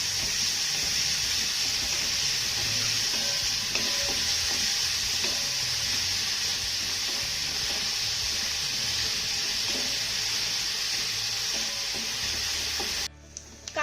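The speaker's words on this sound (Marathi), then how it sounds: "आता हा कांदा आपल्याला मौसूद होईपर्यंत छान असा परतून घ्यायचा आहे" Finely chopped onion sautéing in oil in a pan, a continuous loud hiss and sizzle with occasional soft stirring scrapes, cutting off abruptly at the end.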